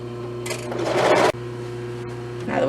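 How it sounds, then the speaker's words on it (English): A serger overlock machine runs steadily while serging the skirt seam of a knot dress, a close, sustained mechanical whir with a brief stop and restart near the end. "Now we're going to go over to the serger."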